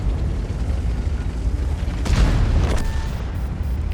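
A tank cannon fires in World of Tanks, a single deep boom about halfway through that rises above a constant loud low rumble of battle and engine noise.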